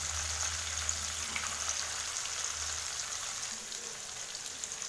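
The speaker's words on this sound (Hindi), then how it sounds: "इसको दोनों तरफ इसी तरीके से हम फ्राई कर लेंगे।" Paneer cubes frying in oil for kadai paneer, browning slowly with a faint, even crackling sizzle that runs steadily throughout with no voices.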